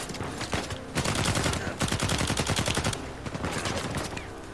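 Rapid automatic gunfire in the action game Uncharted 4, in loud, close bursts of sharp repeated shots broken by brief pauses, with no talking.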